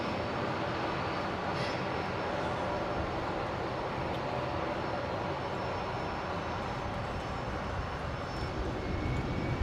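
Military transport aircraft, C-130J and A400M, arrive at Brisbane International Airport with a constant, loud engine roar heard from a distance that holds steady throughout with no talk.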